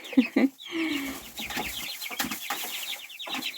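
Month-old chicks cluck and peep close by, opening with two sharp calls and then a busy, continuous run of soft chirping from the small flock.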